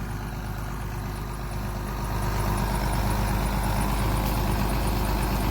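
Engine of a loaded sprayer carrying 400 gallons, with tires squatting, runs at a steady idle. A continuous low rumble holds throughout and grows slightly louder partway through.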